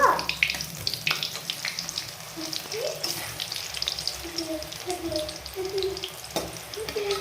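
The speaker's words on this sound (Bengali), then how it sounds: "যতক্ষণ না তেলে ভালো করে লাল লাল ফ্রাই হচ্ছে ভালো করে ছেঁকে নেব" Cabbage and gram flour pakoras frying in hot oil, a continuous bubbling sizzle with intermittent clinks and scrapes of a utensil in the pan, close and steady throughout without talk.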